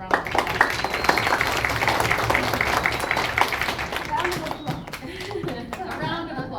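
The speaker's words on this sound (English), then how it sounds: "So let's give them a little round of applause." A room full of people applauds volunteers at an AT&T laptop award event for a Boys and Girls Club in Door County, Wisconsin, with scattered clapping and chatter that thins out toward the end.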